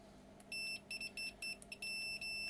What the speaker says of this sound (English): It should have beep mode.